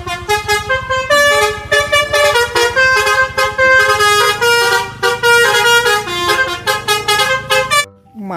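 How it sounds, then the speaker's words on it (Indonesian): A toy bus plays a bright, tuneful telolet horn melody, a rapid run of loud, clear honking notes in a bouncy rhythm that stops abruptly at the end. "Lihat, ada mobil bus telolet teman-teman."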